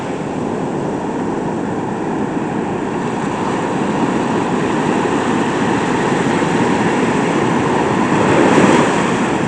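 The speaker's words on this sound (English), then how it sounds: "Some pretty big waves out there." Big ocean waves surge and break along the shore in a steady, continuous wash, loud and close, with wind buffeting the microphone throughout and a slightly stronger swell near the end.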